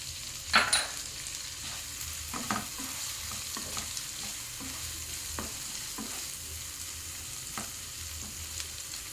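Tomato stirred into frying posto bora curry makes a soft, steady sizzle under a spatula scraping the pan, with a few light utensil knocks and no talk.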